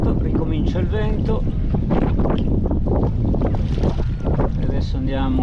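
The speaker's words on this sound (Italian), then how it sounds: "Altro tratto protetto, ricomincia il vento" Gusty wind roars across open water while sea kayaking, battering the microphone in loud bursts while a person speaks over it.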